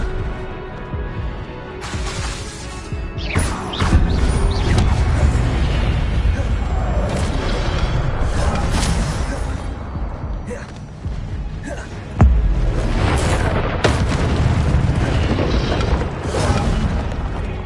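Incendio fire spells cast in Hogwarts Legacy, repeated whooshing fiery bursts and booming impacts in close succession, with a voice calling out over the combat.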